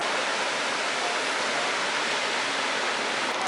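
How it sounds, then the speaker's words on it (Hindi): Steady, dense roar of falling water at a waterfall beside a power plant in Drung, Kashmir, loud and close with no breaks or voices. "अगर आपको झरने की आवाज़ आ रही हो तो समझ जाओ हम लोग द्रंग पहुंच चुके हैं।"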